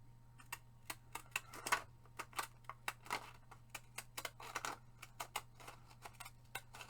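Small decal scissors snipping paper, a series of crisp, quiet clicks and cuts at an uneven rhythm, close up over a low steady hum.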